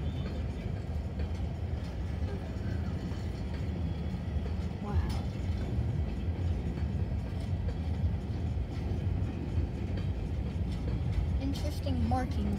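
A coal freight train led by an SD40 locomotive rumbles past steadily at close range in Riverview, Florida, a broad continuous roar with faint rail clatter throughout.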